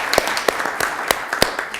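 Scattered applause breaks out at a council meeting, with a few sharp individual claps standing out over a light, uneven patter from a modest crowd.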